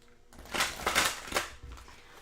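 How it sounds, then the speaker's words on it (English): Halloween oracle cards being shuffled, a brisk papery riffling in a few quick bursts over about two seconds, close and fairly quiet with no voices. "by shuffling our Halloween deck."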